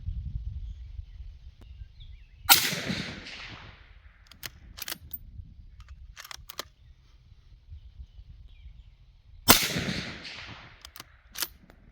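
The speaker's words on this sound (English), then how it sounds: "5 rounds on the steel target using the Savage 110 and the M118 LR" A Savage 110 rifle fires M118 LR rounds at a steel target outdoors. Two sharp, loud reports land several seconds apart, each with a fading echo. Faint clicks and the ring of distant impacts come between them over quiet background hum.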